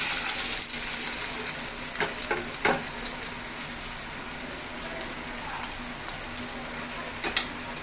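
Water pours steadily into a pot holding a kilogram of rice being readied for cooking, making a continuous hissing rush with a few small splashes and clinks and no talk.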